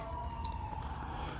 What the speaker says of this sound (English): I'm pretty sure that is sirens for this actual park, because they sound very close